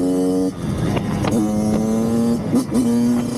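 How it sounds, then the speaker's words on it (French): A 2024 Kawasaki KX 85 dirt bike engine revs hard close by, holding a high, buzzing pitch with brief throttle dips and sharp climbs back up. "Dès que les valves du moteur sont ouvertes, ça t'as toute la pêche, il y a tout qui arrive."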